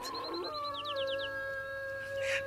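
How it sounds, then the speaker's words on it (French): Birdsong from several birds, with a repeated whistled note, a quick run of rising chirps and sustained tonal calls overlapping, fairly faint and clear against a quiet background. "Écoute le chant des oiseaux."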